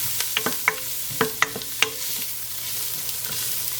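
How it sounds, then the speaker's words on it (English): Onions browning with added ginger frying in a pan, heard as a low steady sizzle broken by several sharp clicks and scrapes of stirring, close and moderately loud, with no talking. "now that the onions are starting to brown, I'm going to add a teaspoon of ginger"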